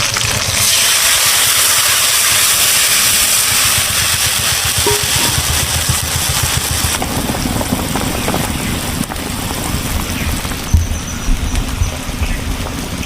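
Water goes into a pan of fried tilapia, a loud, steady hiss and sizzle like heavy rain that carries on throughout and eases slightly toward the end, with no voices.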